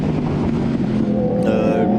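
A racing motorcycle, borrowed after the rider's own bike was badly damaged, drones loud and close throughout, its engine note rising and climbing in pitch during the final half-second.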